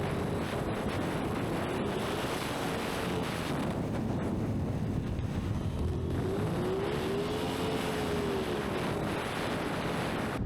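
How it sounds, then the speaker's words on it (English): A 2024 Aprilia Tuono 660 Factory Edition motorcycle with a slipping clutch is ridden on the road, its engine drone rising and falling beneath heavy, steady wind roar on the microphone. "I'll actually post a video here of when the clutch was slipping"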